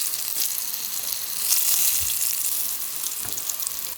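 Eggplant pieces coated in glutinous rice flour pan-fry in oil with a steady, bright sizzle, with a few soft stirring clicks from the pan; no one talks over it.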